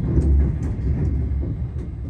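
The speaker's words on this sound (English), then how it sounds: "We're on the Glasgow train." Riding inside a ScotRail train to Glasgow, with a steady low rumble of the carriage, faint rattles, and a few soft knocks over the constant drone.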